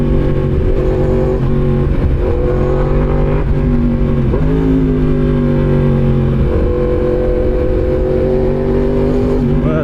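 A Yamaha MT-10 motorcycle engine revs steadily while riding, a loud sustained drone with rising and falling pitch and brief dips at shifts, continuous throughout with no talking.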